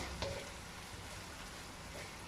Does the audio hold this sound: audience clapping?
no